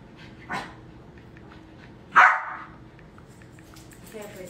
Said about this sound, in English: Don't bother my dog.